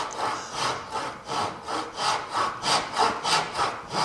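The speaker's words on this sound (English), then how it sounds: "I'm sawing right into the grain here, so I want to be light on the saw." A hand saw cutting dovetails in wood with light back-and-forth strokes along the grain, about a dozen rhythmic rasps, close and fairly loud.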